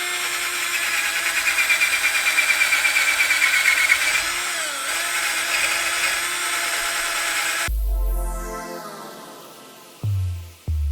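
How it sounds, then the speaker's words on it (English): A cordless drill spins a large wire brush against a BMW M3 wheel hub with a steady, gritty whine, then cuts off, followed by a few short clunks and handling noises. "I'm going to start with the big wire brush and pretty much, clean up the area"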